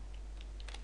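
Computer keyboard keys are tapped in a short, soft burst of a few quick clicks over a steady low background hum.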